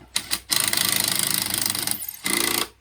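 A drill drives a screw into a garden fence panel in short loud bursts: two quick blips, a sustained rattling whir under load, a brief pause, then a final burst before stopping.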